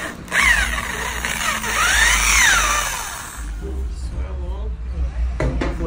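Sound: drilling a hole in a motorcycle handlebar

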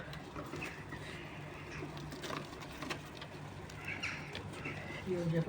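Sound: flock of crows arriving to eat bread

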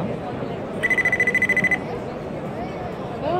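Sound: RoBoHoN robot smartphone ringing with incoming call

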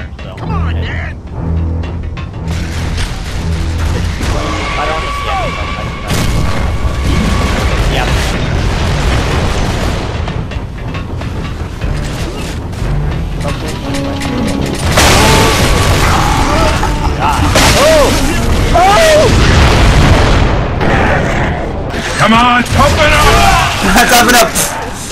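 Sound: mortar explosions in Gears of War video game

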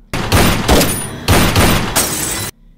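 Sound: gunshots

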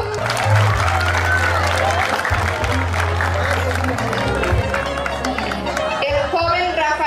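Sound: applause at a quinceañera

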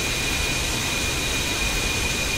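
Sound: jet aircraft engine taxiing before takeoff in DCS World video game

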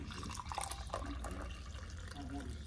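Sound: coffee pouring from a leaking pot onto a towel

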